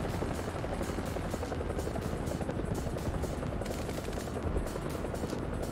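A helicopter drones in steadily and loudly throughout a War Thunder tank battle, its rotor chop mixed with a dense, constant roar of battle noise and no talking.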